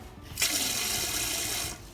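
Water rushing from a non-electric bidet toilet attachment: after a brief quiet start, a bright steady hissing spray switches on, runs evenly for over a second, then drops back to a softer trickle.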